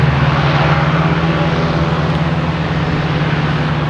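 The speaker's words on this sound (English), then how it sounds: "We have a very loud Cape airplane, which is the sustainability one. But it is very loud." A Cape Air airplane taking off at Boston Logan Airport, its engines producing a loud, steady, close roar with a constant low drone throughout.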